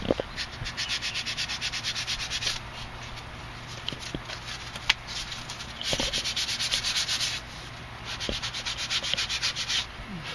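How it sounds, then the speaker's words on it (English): Hand sanding on a hardwood Native American flute: steady, rhythmic scratchy strokes going back and forth in bursts, close up, with short pauses between passes. "it's always best to do a little hand sanding."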